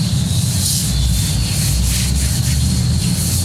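A rag rubs and wipes across the body of a Yard Machines tractor, a loud close continuous scrubbing with soft swishing strokes and low rumble underneath.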